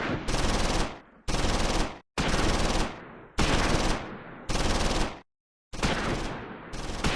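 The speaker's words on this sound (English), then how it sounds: "Second platoon's BAR squad receives machine gun fire from the Befehlspanzer and withdraws." Bursts of machine gun fire from a German command tank in the Close Combat 4 video game, six loud sustained rattling volleys separated by brief gaps.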